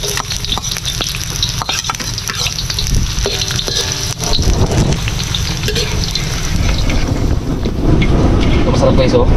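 Ginger sizzles and fries steadily in a hot pan for a caldereta, with loud, continuous crackling that swells over time and some stirring and breezy background noise.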